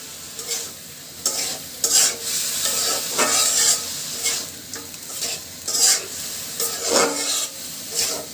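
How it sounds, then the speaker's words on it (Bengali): Papaya and fish being stirred and sautéed in a pan, a steady sizzle broken by repeated scraping strokes of a spatula, close and fairly loud, with no talking. "নাড়তে নাড়তে কিন্তু কষানোটা হয়ে যাবে"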